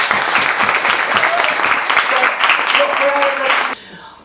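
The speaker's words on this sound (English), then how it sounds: "Round of applause for the ladies" An audience at a London tech event applauds women leaders, with a full, lively wave of clapping and a few raised voices that runs for several seconds, then drops off abruptly.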